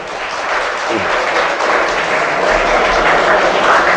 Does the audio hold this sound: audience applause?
yes